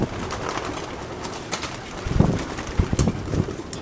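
Racing pigeons in a loft coo in low, soft, repeated calls that grow busier toward the end, along with rustling and wing-flap bursts against light wind noise.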